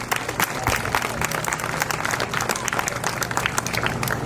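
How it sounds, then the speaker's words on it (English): An audience at a veterans night community event breaks into steady, dense applause, many hands clapping continuously and fairly loud throughout, with a faint murmur of crowd voices underneath. "we want to offer you our thanks and a round of applause, definitely"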